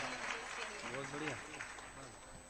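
An audience claps in welcome at a devotional gathering as a memento is presented to a revered Maharaj; steady, dense applause runs throughout, with a voice speaking over it.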